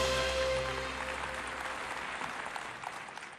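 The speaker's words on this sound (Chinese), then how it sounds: "来，让我们掌声欢迎。" Applause from an audience welcoming a speaker at an award ceremony, a dense, steady round of clapping that starts full with some music or hum underneath and slowly fades over a few seconds.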